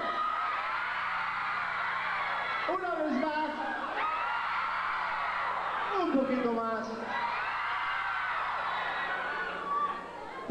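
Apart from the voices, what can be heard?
concert crowd screaming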